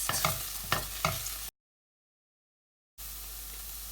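Tomato puree and onions frying in a pan and stirred with a spoon, with a soft steady sizzle and a few scraping strokes, then a gap of silence before the sizzling returns, close up and without talk.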